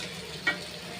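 Round-sliced sausages frying in a pan, a soft continuous sizzle with one brief louder crackle, quiet and close.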